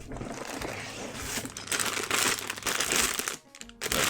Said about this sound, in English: how annoying is the crinkling?